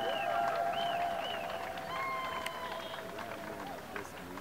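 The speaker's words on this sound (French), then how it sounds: "Applaudissez pour vous-même." A church congregation in the Democratic Republic of Congo applauds and cheers, a dense, steady crowd noise overlaid with loud, sustained whistles and occasional sharp claps throughout.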